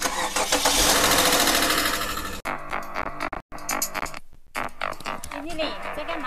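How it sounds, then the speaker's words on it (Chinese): A car engine, recently overhauled and now making an abnormal noise, cranks and starts with a loud, dense roar at first, then settles into a rougher, uneven running sound broken by brief dropouts, with people talking over it. "就我车之前刚大修过，然后现在发动机又有异响了"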